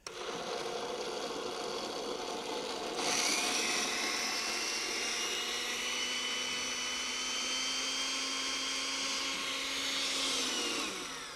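A blender whizzes browned ingredients with hot milk, a steady motor whine that jumps up in speed partway through, runs on evenly and then winds down at the end, with no talking.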